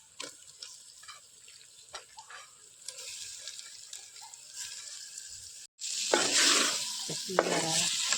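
Squid fries in oil and spice masala, with quiet scraping stirs and faint sizzle at first, then a louder, harsher hiss of frying in the last seconds.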